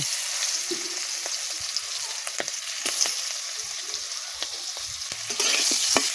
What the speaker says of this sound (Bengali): কড়াইতে তেল গরম হয়ে গেছে এগুলো আমি কড়াইয়ের মধ্যে দিয়ে দেব